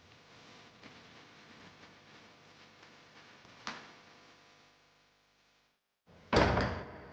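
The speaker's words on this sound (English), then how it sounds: "the door closed behind her" A door swings shut with a firm thud near the end, after a stretch of low rumbling ambience that fades almost to silence before the closing impact.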